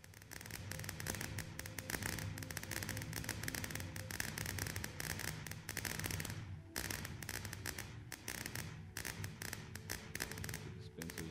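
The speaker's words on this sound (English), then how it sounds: "And there's the firework display." Minecraft fireworks from a redstone-controlled display crackle and pop in a dense, quiet, continuous stream, with a short lull midway before the bursts resume.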